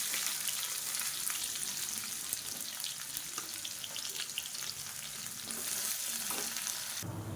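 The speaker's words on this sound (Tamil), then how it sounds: "இப்போ மீடியம் சைஸாக ஒரு பெரிய வெங்காயம் நீளமாக நறுக்குனதை சேர்த்துக்கலாம்." Sliced large onion fries in hot oil for tiffin sambar, a steady, close crackling sizzle broken by occasional scraping stirs, with no voices.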